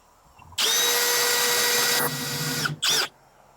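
A power drill drives a cabinet screw into wood without a pilot hole, whirring at full speed for a couple of seconds, its pitch dropping under load, then stops and gives one more short burst.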